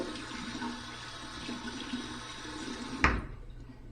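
Steady rush of running cold tap water filling a sink during a wet shave, continuous for a few seconds, then a sharp knock and the flow cutting off.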